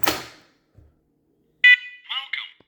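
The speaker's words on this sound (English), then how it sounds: "First alert smoke alarm. No location programmed." A sharp electronic beep from a First Alert SM500V smoke alarm, followed by a brief synthetic voice announcement, "No location programmed," in a quiet room.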